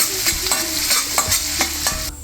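Chopped garlic and ginger with mustard seeds fry in hot sesame oil for a Kerala lemon pickle, giving a loud continuous sizzle broken by a regular series of sharp spoon scrapes and taps, close up.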